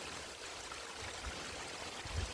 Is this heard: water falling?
yes